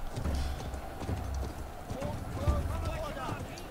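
Rapid clip-clop of horse hooves galloping, with a brief whinny, under a voice talking over sounds of the video game Conqueror's Blade.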